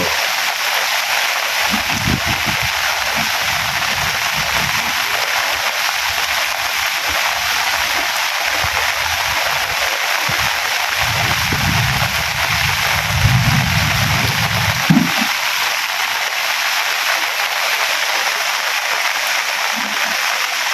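Heavy morning rain pours down in a steady, dense hiss that never lets up, with faint low rumbles now and then underneath.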